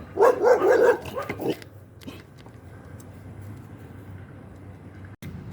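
Dogs defending their territory at an outdoor gym bark in a quick, loud burst of several close barks, then fade into outdoor background noise with faint sporadic sounds.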